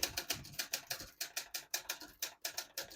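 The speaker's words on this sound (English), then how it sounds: "I'll type a sentence on this next line." A 1963 Olympia Socialite portable typewriter made in West Germany, typed at a brisk, steady pace, with crisp close mechanical key strikes snapping out one after another in a quick, even rhythm.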